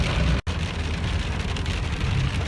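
Heavy rain mixed with hail pounds down in the Barot Valley of Himachal as a dense, loud, continuous roar, broken by one very brief silent gap.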